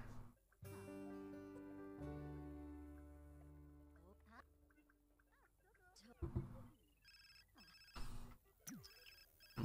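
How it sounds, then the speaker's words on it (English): A phone rings inside The Sims 4 video game, a bright repeating electronic ring over layered game music, with a person talking across it in bursts. "See phone, she is ringing."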